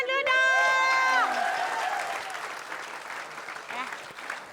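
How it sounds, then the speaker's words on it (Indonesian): Audience applause at a comedy game show breaks out right after a voice, then settles into a steady, fading patter of clapping with brief vocal sounds over it. "Tepuk tangan dulu dong."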